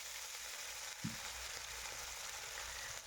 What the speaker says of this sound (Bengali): কড়াইয়ের মধ্যে আবার বেশ খানিকটা সর্ষের তেল দিয়ে তেলটি খুব ভালো করে গরম করে নিয়ে নুন হলুদ মিশিয়ে রাখা মাছগুলি তেলের মধ্যে দিয়ে দেবো